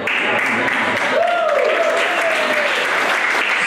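A comedy club audience applauding: dense, loud, continuous clapping throughout, with a voice rising briefly over the crowd noise.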